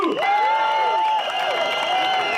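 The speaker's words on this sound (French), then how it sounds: "Applaudissements, producteur du film The House 1 et The House 2." An audience applauds and cheers for a film producer, with sustained clapping and rising whoops and whistles cutting through the crowd noise at close range.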